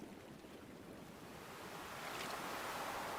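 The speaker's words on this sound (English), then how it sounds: "Can't you hear the bubbles of the water? I put the jets on high so you can hear them." Hot tub jets on high churn water in Stardew Valley, a steady, continuous bubbling wash that swells slightly louder toward the end, with no voices over it.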